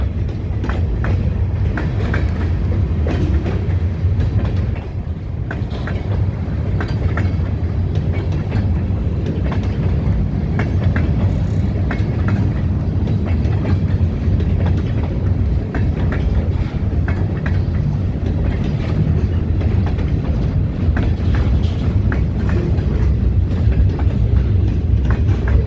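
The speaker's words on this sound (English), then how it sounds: "This is like a 50-car long train," Great Lakes Central Railroad freight train of about fifty cars rolling past nearby, a loud, steady rumble with rhythmic wheel clatter and rail clicks that persists throughout with no voices.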